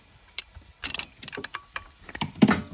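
Ratchet and socket tighten a bolt on the timing belt of a car engine during a cambelt change: a close series of irregular metallic clicks and short ratcheting bursts, with no talking.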